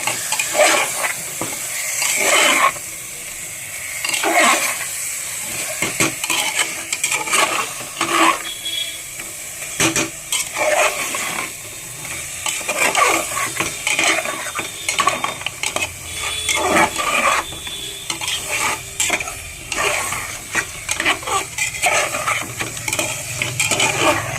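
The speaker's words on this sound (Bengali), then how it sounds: "ওটা একটু জল দিয়ে গুলে দিতে হবে, ভালো করে কষিয়ে নেবে।" Chicken curry masala with yogurt sautéed and stirred in a pot, with repeated metal spoon scrapes and clanks over a light sizzle in a close, busy rhythm.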